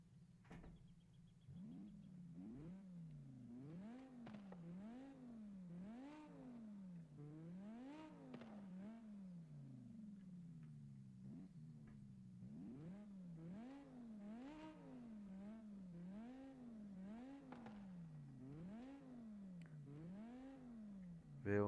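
A BMW M5 E60 engine in Forza Horizon 5 revs repeatedly in a Mexican desert setting, rising and falling in a steady wavering pattern of throttle blips and gear changes, heard alone and clear.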